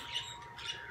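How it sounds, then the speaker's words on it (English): Outdoor birds squawking: two short, fairly faint harsh calls about half a second apart, alone without talk. "My word, these birds are crazy today."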